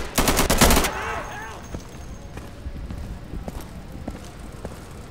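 A rapid burst of automatic gunfire from the video game Insurgency rattles loudly for the first second. Scattered quieter shots and player voices follow.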